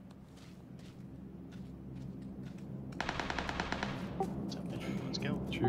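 Automatic gunfire in the battle royale game PUBG, a dense run of rapid shots starting a few seconds in and holding steady over a continuous low background rumble, with a voice talking quietly underneath.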